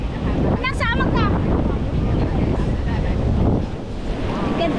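Ocean waves wash ashore on the beach at St. Simons Island, Georgia, a continuous rushing surf blended with heavy wind buffeting the microphone, while a voice briefly talks over it.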